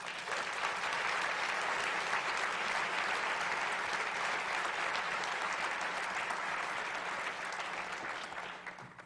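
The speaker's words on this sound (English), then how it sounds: "Give them a round of applause" Steady, even applause from a large audience at a county government State of the County address, heard somewhat distant and filling the room throughout.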